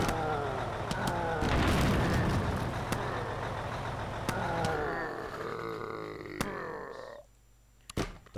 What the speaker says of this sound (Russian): А этот автомобиль едет.